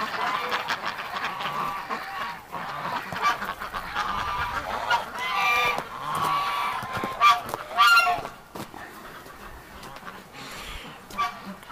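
Ducks on snow give a busy stream of honking, quacking calls, several birds overlapping at close range with uneven bursts and a few louder peaks, voices faintly mixed in.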